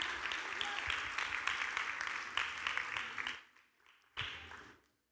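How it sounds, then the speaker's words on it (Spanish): A church congregation gives loud, sustained applause that fades out, then a brief final burst of clapping follows, with some murmured voices mixed in. "¿Por qué no hace un fuerte aplauso a nuestro Dios?"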